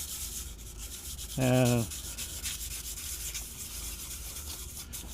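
Abrasive is rubbed over the clutch flywheel surface of a 2002-06 MINI Cooper to roughen it, a continuous close scratchy scrubbing; a single brief spoken word cuts in early.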